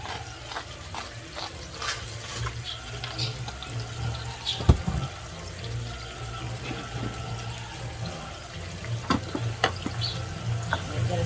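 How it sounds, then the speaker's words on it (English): Spinach and garlic sauteing in a pan, a continuous sizzle with scattered stirring clicks and a sharp clatter near the middle, close by, with no one talking. "I'm gonna saute them"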